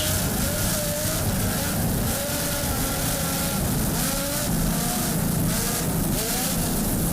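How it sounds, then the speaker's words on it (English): Offshore racing powerboat Reverie, run by the KR Racing team at the Miami Offshore Grand Prix, powered by two 920-horsepower Lamborghini engines, roars at full throttle with a steady droning growl and wavering pitch over water spray. "Just listen to those Lamborghini power plants."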